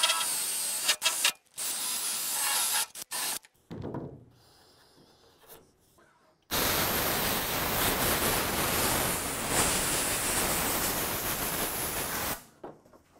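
A wire wheel grinds rust off a car body being prepared for rust hole repair. Short bursts come first, then one long, loud, steady grinding run that stops abruptly near the end.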